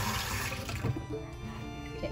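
Water splashes from a tap onto rice noodles (bihon) in a kitchen, a short, soft, running trickle heard up close.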